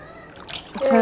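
Water splashing as freshly caught fish are washed before frying, brief splatter building to a louder wet rush at the end, with people talking nearby.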